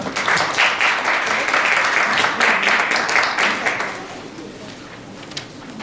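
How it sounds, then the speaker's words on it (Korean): A lecture audience applauds to welcome a speaker with a steady, fairly loud wash of clapping that tapers off after about four seconds into quiet room tone. "박수 부탁드립니다"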